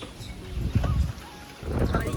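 Gusty wind before a storm buffets the microphone in deep, rumbling surges that rise, drop away briefly, then swell again.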